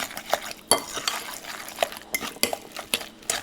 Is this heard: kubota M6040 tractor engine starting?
no